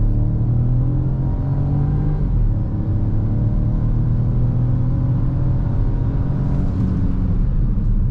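A 2024 Peugeot 2008 GT with a 1.2 PureTech 130 hp engine and 8-speed automatic accelerates hard in sport mode from inside the cabin, a loud rising engine drone climbing through gears with a brief dip at a shift.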